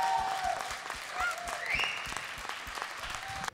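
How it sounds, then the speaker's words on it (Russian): An audience claps steadily for a singer at a televised talent show, a dense patter of applause under brief whistles and scattered voices. "Это ты что, аплодируют все тебе?"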